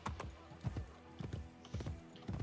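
A stolen horse trots in Assassin's Creed: Brotherhood, its hooves clip-clopping in a steady rhythm of paired beats, clear and close with no talk over them.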